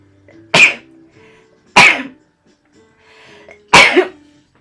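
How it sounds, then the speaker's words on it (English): Three sharp sneezes, evenly spaced about a second and a half apart, each a loud burst separated by quiet. "I'm about to sneeze."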